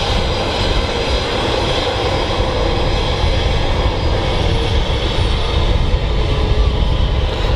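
Ryanair airliner jet engines at Manchester Airport, a loud, close, steady roar with dense low rumble, constant through the whole stretch.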